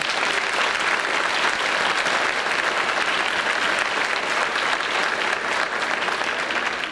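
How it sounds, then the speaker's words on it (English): A school academic excellence ceremony audience claps steadily for the teachers, a dense, even round of applause from a large crowd that holds loud throughout with no talking. "So let's give our teachers a round of applause."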